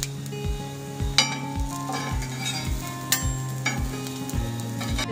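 Raw banana slices frying on a tawa over low heat, a gentle sizzle under a steady hum, marked by several soft knocks and clinks of a spatula.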